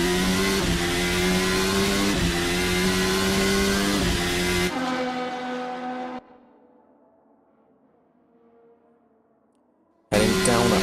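A Formula Alfa racing car in a video game league race screams down the back straight at a high, steady engine pitch with gear changes, then drops away to a faint hum before another burst.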